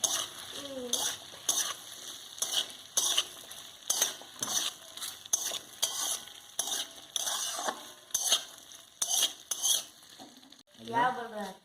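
Onion and capsicum being stirred in a sizzling frying pan for soyabean chilli, with repeated spoon scrapes and clinks against the pan in an irregular rhythm over a steady frying hiss, and a short voice near the end.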